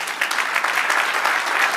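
A church congregation gives a brief burst of applause at the close of a sermon, full and even clapping from many people filling the room.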